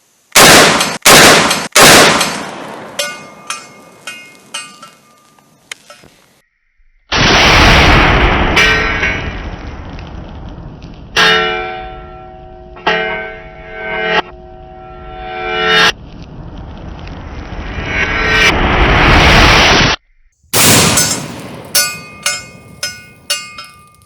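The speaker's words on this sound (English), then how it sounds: "12 gauge Dragon Breath on the boom booms" A 12 gauge shotgun fires Dragon's Breath shells at an outdoor range, loud sharp blasts in a quick cluster, then long roaring bursts of burning flame, ending with another rapid string of shots.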